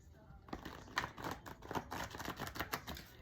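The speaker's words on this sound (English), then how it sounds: "Let me do a shuffle." Shuffling a deck of reading cards during a love reading, a close run of crisp papery riffles and flicks lasting a few seconds, quiet and without talk.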